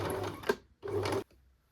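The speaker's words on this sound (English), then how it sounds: "Sew a straight line between the cupcakes from the bottom to the top of the pocket." A home sewing machine stitching a straight seam across a fabric pocket for a cupcake project bag, two short whirring runs separated by a brief pause, close and fairly quiet.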